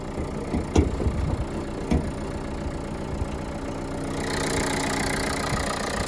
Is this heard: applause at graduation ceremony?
no